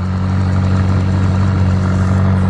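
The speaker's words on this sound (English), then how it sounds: "Going in hot for the startup on the McLaren 570S." A McLaren 570S fitted with a Fab Speed exhaust idles just after startup at a car meet, a loud, steady, deep drone close by with no talk over it.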